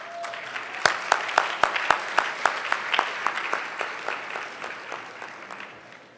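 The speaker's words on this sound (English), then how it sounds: "Yeah, that was enough applause." An audience at a gala welcoming a stand-up comedian to the stage with applause, sharp individual claps standing out over a steady wash of clapping that gradually fades.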